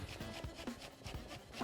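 A knife quickly chops fresh garden sage on a board, giving a rapid series of close, soft thuds and scrapes at a steady rhythm.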